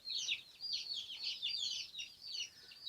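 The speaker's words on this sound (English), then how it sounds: "that is a blue-laced red Wyandotte" A blue-laced red Wyandotte hen clucks nearby in a farmhouse coop, with repeated soft, rhythmic clucks running steadily throughout.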